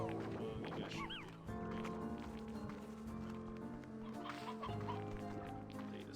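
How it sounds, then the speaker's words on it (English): Chickens on a ranch cluck and peck at feed, with scattered clucks and soft squawks spread through a busy background of steady ambient noise. "I can hear chickens eating"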